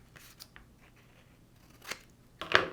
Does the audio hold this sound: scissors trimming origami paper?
yes